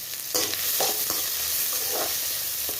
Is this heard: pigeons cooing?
no